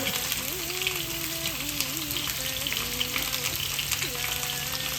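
Four teaspoons of mustard seeds sizzle in hot oil in a pan, giving a continuous, dense crackling hiss close by, with a person talking over it.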